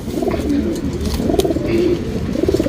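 Racing pigeons kept by a fancier coo close and clearly in three rolling, throaty phrases, each swelling and fading, with a low steady background beneath.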